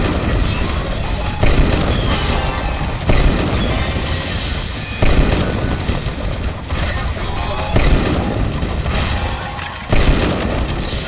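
Fireworks in the video game Let It Die go off as repeated booming blasts at steady intervals, loud and close, layered over busy game noise and crackling.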